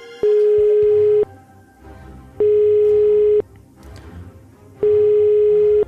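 Ringback tone of a telephone call that goes straight to voicemail: three long steady beeps, each about a second, evenly spaced with quiet gaps and faint background noise between them.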